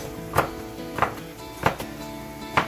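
A kitchen knife chops food for a slow cooker pot roast on a cutting board, four distinct thuds spaced evenly about two-thirds of a second apart, close and moderately loud with no talking.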